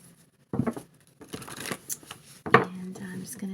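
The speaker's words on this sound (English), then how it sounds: "I'll just do a few more shuffles here on camera for you" A deck of tarot cards is shuffled by hand in a few quick riffling bursts, close and crisp, separated by brief pauses.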